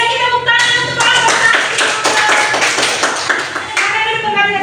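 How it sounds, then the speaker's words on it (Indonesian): A classroom group of students claps together for a student group, dense close hand claps sustained for several seconds with voices mixed in. "beri lagi tepuk tangan untuk kelompok"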